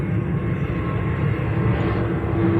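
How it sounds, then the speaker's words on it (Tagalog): A steady, loud airplane drone passes overhead without a break, a broad low roar filling the space with no voices on top. "Ang ingay ng airplane."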